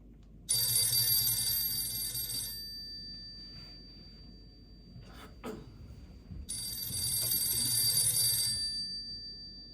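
An old-style telephone bell rings in two long bursts separated by a quiet pause with a brief clatter, bright and fairly close, with no voices.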